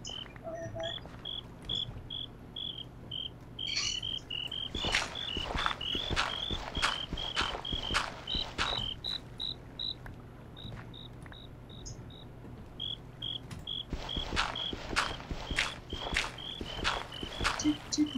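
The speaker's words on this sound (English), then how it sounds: "You hear the crickets?" Crickets chirp in steady, evenly spaced pulses throughout, with scattered footstep-like thuds and scraping sounds breaking in at intervals.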